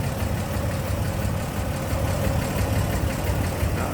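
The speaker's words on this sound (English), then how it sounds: "Purring right along. Nice smooth running engine." Inline six-cylinder engine of a 1954 Chevrolet 3100 five-window step-side pickup idling under the hood, a steady, even, continuous rumble, close and fairly loud with no other sounds.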